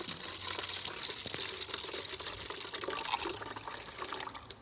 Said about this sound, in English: So once you've got your jelly made up, we're going to pour it in.